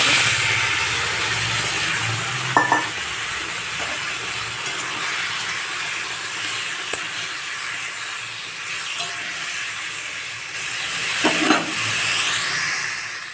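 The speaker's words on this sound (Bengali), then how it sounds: "ভালো করে গরম হয়ে গেছে এবার আমি টমেটম দিয়ে দিচ্ছি" Tomatoes added to hot oil with five-spice and dried chilli, a broad steady hiss of sizzling close by, with a couple of brief clatters from a utensil and no talking.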